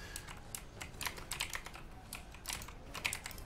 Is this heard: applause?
no